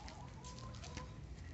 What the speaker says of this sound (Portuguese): Olha lá as galinhas.